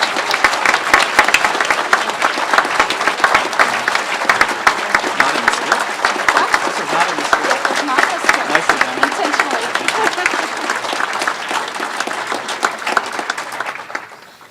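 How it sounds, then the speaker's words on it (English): Applause from a large audience at a university presidential inauguration ceremony, with dense, loud, continuous clapping that holds steady and fades at the very end. "So please join me again in applause as we invite Dr. Lawler to join me"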